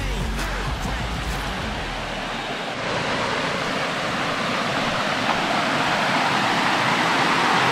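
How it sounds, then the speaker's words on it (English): Steady, dense rush of Ton Ao Yon waterfall in Phuket, a broad continuous roar close by with no breaks, slightly louder toward the end. "so I'm here at Ton Ao Yon waterfall"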